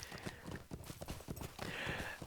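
Horse hooves clip-clop in a quick, steady rhythm along a road in the Lord of the Rings Online video game, fairly faint with some softer ambient sound behind them.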